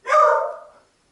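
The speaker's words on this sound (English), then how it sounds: "You're gonna keep barking" A dog gives one loud, close bark that fades out over under a second, with nothing else around it.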